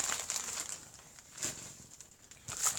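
Plastic packaging of stick-on hem tape crinkles in faint, scattered crackles and rustles, close by and quiet.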